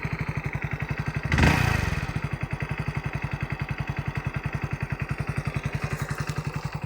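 Hero Splendor motorcycle engine running steadily after a difficult start, a close, even single-cylinder putter with a brief louder clattering burst early on, then a regular idle throb continuing alone.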